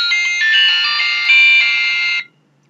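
A cell phone sounds its incoming text-message alert: a loud, bright electronic ringtone that holds steadily for about two seconds and then stops abruptly, heard alone.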